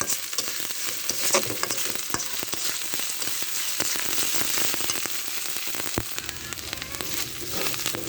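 Ginger garlic masala fries in a pan with a loud, continuous sizzle, dotted with crackles and occasional spatula scrapes, no voices present.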